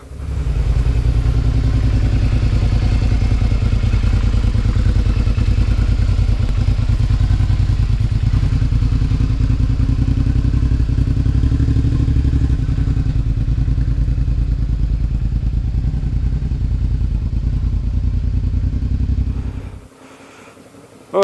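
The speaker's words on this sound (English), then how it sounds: "So now I'm going to try and ride as slow as I can and dab my foot when necessary." An adventure motorcycle engine hums loud and steady as the bike creeps along at very low speed with the clutch slipping, holding an even drone for about twenty seconds before cutting out abruptly.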